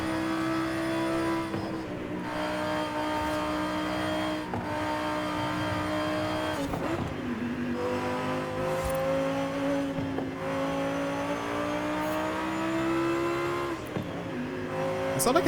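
A tuned-up SUV converted into a race car, driven in the Forza Horizon video game, its engine droning steadily with harmonic pitch sweeps as it revs up and shifts through gears, loud and continuous with no talking.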